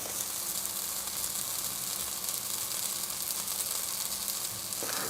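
Egg in bread fries gently in a pan with a little olive oil, a steady soft sizzle and hiss running evenly throughout, faint and close, with no talking.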